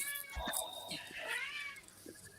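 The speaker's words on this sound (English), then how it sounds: "Is that cat after the fucking budgie? Sounds like it." A house cat meows indoors, a few short rising calls with a faint voice nearby, fairly close and moderately loud against a quiet room.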